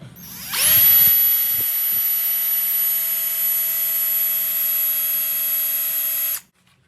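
A power drill spins up sharply and runs at a steady high-pitched whine for several seconds, close and loud, then stops abruptly.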